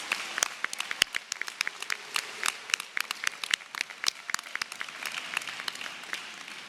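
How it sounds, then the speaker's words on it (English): Applause at a university commencement ceremony for Masters in Public Administration graduates, with sharp individual claps scattered across a steady crowd patter, fairly distant and moderately loud. "Can we please get a round of applause for all of our Masters in Public Administration degree graduates?"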